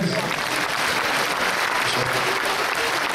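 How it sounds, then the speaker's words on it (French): Audience applause at a team presentation of the Dragons, a dense, steady wash of clapping from a crowd filling the whole stretch at a consistent loudness. "vous pouvez l'applaudir"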